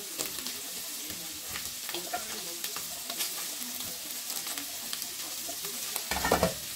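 Squash stirred into sautéed fish and vegetables in a pan, with a steady sizzle and repeated scraping stir strokes at close range. The stirring grows louder and busier near the end.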